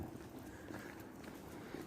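A light breeze on an overcast, damp winter day outdoors rustles steadily and faintly against the microphone as a continuous low rushing hiss, with no voices.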